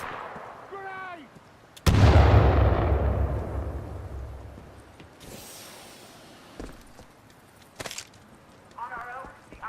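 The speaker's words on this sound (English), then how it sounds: "Grenade!" A grenade blast in the Titanfall 2 campaign, a sudden loud boom that rolls off over several seconds, followed by scattered sharp gunshots and battlefield clatter, with shouted voices heard around it.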